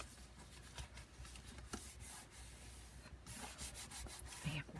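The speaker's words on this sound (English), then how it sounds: "Give it a good crease with your fingers." Fingers rubbing firmly along folded paper pages of a small handmade book, a soft continuous dry scraping and brushing with a few brief harder strokes, close and quiet, with no talking.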